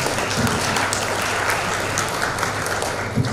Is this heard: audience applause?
yes